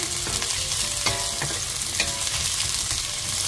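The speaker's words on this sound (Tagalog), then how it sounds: "Next is sibuyas. Haluin po natin." Chopped onions frying in a pan while a spatula stirs them: a constant loud sizzle with intermittent scraping and clacks of the utensil, no voices.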